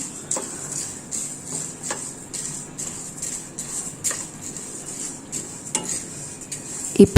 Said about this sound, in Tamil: இந்த மாதிரி நல்லா மிக்ஸ் பண்ணிகிட்டே இருங்க அப்போ தான் இது கோல்டன் ப்ரௌனாக ஆகும்